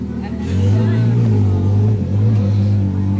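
A Ferrari 812 Competizione V12 idles and creeps along as a valet moves it, a deep steady engine hum close by with slight pitch shifts, while a person talks over it.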